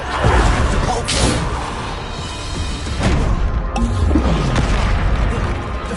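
Force-push spell from the Hogwarts Legacy video game, heard as loud booming magical blasts with whooshing bursts amid continuous dense battle noise, with a voice calling out over it.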